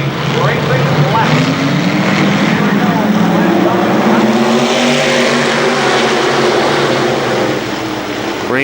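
Stock race cars roar away at the green flag start at KilKare Speedway, a dense, loud wall of engine noise rising and sustained throughout, with a commentator talking over it.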